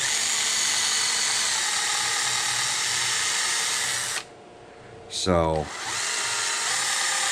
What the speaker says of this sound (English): I do have to drill them out